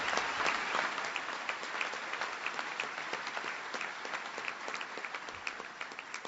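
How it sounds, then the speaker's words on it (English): Applause in Springfield for Dick Durbin, a crowd clapping in a dense, sustained roar that gradually loosens into more separate, individual claps as it tapers off, with no voices over it. "So please give Dick Durbin a big round of applause."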